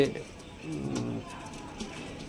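Black Indian Lokha pigeons coo softly nearby in low, rolling calls, with faint voices murmuring in the background.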